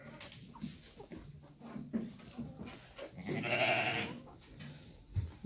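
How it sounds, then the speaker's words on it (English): Sheep in a farm pen bleat and call close by, a few short nasal bleats and one longer loud cry among rustling and shuffling, with no talking. "She's such a weird sheep."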